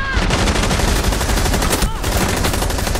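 Rapid, loud gunfire in Rainbow Six Siege, dense continuous bursts filling the whole stretch with a brief dip near the end, up close and dominant.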